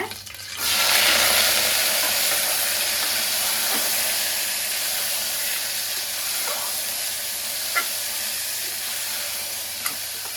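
Crab dropped into a hot pan with green chillies for nandu rasam bursts into a loud, steady sizzle and hiss that carries on close up, with a couple of faint knocks along the way.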